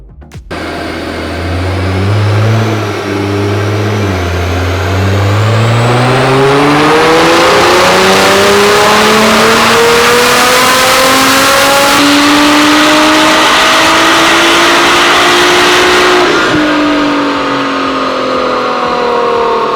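A Nissan GT-R or Camaro ZL1 1LE sports car with an AWE full exhaust and link pipes revs up on a dyno, rising loud and near into a long sustained roar before backing off.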